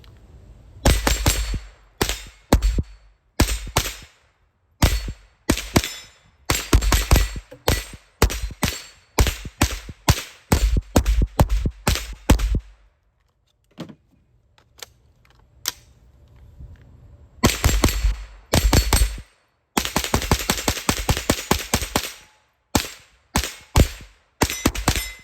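A Tippmann M-4 competition rifle firing 42 grain Eley ammunition in rapid strings of sharp, close cracks, several bursts separated by a quiet pause in the middle.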